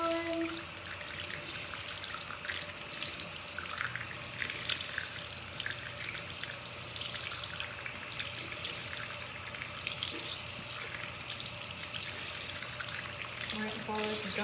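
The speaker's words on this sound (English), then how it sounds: "let it absorb the water, squeeze it out, and keep doing that until all the soap is gone" Running water splashes and trickles steadily as makeup brushes are rinsed of tea tree soap under a tap, a continuous close wash of water sound with a faint tone throughout.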